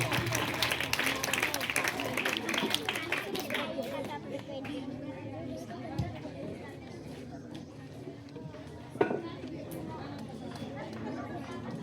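Scattered clapping from a school audience at a block-level debate competition mixes with crowd chatter, loudest at the start and thinning to murmuring voices.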